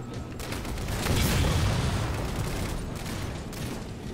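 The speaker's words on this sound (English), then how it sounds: "I love Covenant explosions." Covenant explosions in the video game Halo 4, heard as a dense, continuous roar of rumbling blasts and crackling gunfire that swells loudly around the middle and stays busy throughout, with no voices.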